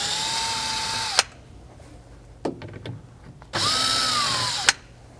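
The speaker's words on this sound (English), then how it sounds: "that's going to be done by 2 Phillip head screws at the bottom of this shroud" Power drill backing out Phillips head screws from the bottom of a plastic shroud on a HISUN 500cc-700cc UTV, two separate close whirring runs with a clicking gap between them.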